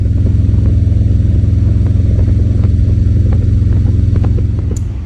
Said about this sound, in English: Keep those engines running.